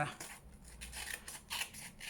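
Scissors snip through paper card in a few quick, close cuts, quiet and crisp, with faint talk around them.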